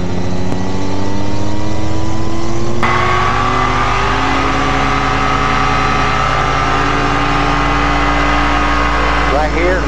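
A light aircraft engine runs up to 4,000 RPM with the brakes held, giving a loud steady drone whose pitch shifts upward partway through and then holds as a sustained roar close by.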